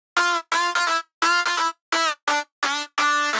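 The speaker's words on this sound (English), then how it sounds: "Now the second layer sounds like this." A second synth layer for a future house drop lead, buzzy and brassy, hammers out a rhythmic pattern of clipped notes with short silences between, loud and isolated without any voices.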